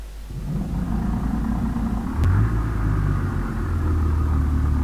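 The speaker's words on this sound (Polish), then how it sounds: "Dziwny, strasznie dźwięk odpalania. Znaczy, to jest diesel w sumie" A video game diesel car engine cranks and catches, settling into a loud, low rumbling idle with a deep throaty hum, close and steady.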